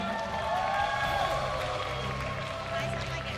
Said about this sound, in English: Give a round of applause to Team Lil Gun.